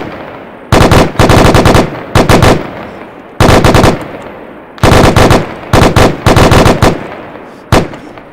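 M27 automatic rifle fire in ArmA III: loud, close bursts of rapid shots in several clusters separated by short pauses.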